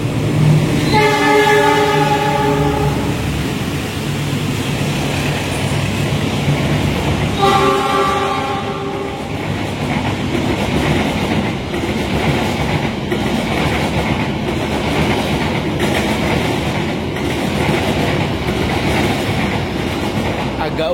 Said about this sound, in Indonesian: Kereta api Bima dari Gambir tujuan Surabaya Gubeng melintas langsung nih